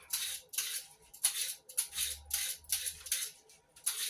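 Vegetables being peeled by hand in a kitchen: a run of quick, rhythmic rasping scrapes, about eight strokes in four seconds, close and crisp, with no talking.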